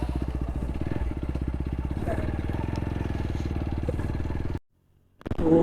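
A motorcycle ridden along the road, its engine thumping in a rapid steady pulse with a throaty exhaust, cutting out briefly near the end before picking up again.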